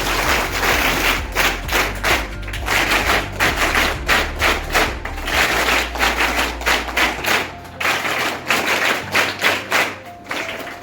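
Schoolchildren clapping for their teachers and headmaster at a primary school event, loud, steady rounds of hand claps with thudding, rhythmic beats over a low hum, lasting about ten seconds.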